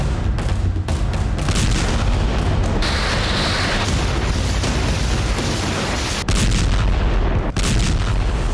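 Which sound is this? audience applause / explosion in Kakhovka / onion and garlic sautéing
explosion in Kakhovka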